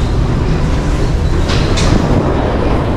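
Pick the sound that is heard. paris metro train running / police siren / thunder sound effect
paris metro train running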